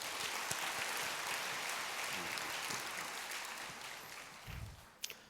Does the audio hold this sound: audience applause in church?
yes